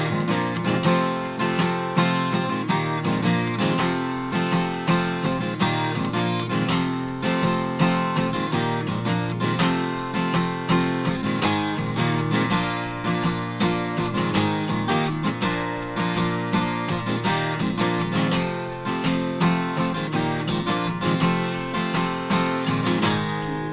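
Guitar strums the verse through the chorus of a song in a steady, driving rhythm, dense and continuous for over twenty seconds with no talking.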